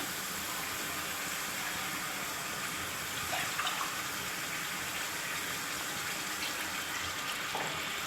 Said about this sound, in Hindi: 1 गिलास में डालूंगी पानी